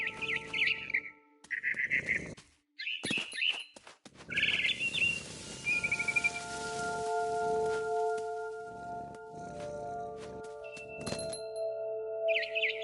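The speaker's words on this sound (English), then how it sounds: "It was a barn swallow going back to her nest." A barn swallow chirps and twitters in What Remains of Edith Finch on PS4 Pro. Bright, clipped calls come in repeated bursts over a steady ambient game hum and musical tones, moderately loud and close.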